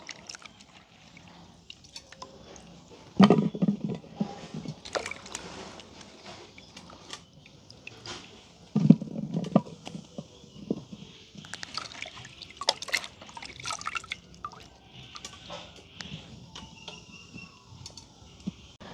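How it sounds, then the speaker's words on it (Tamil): Cut vegetable pieces are washed by hand in water in a village kitchen, with close splashes, drips and sloshing in irregular bursts, some louder swishes standing out against a quiet background. "நல்ல வடிவாக கழுவி எடுப்பேன்."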